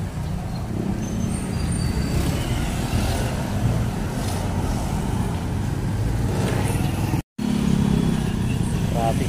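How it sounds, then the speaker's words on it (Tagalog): Steady road traffic in Barangay San Jose, Dasmariñas City: a continuous wash of car, bus and motorcycle engines close by with a constant low rumble, under faint talk, broken by a brief cut near the end. "Traffic pa rin ang biyahe dito sa may barangay San Jose"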